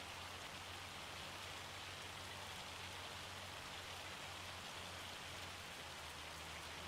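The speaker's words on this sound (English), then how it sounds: "severe hail as well. Just a gentle peppering." Hail in Farming Simulator 25 peppers down as a dense, steady hiss of tiny impacts, constant and fairly faint, with a low hum underneath and no voices.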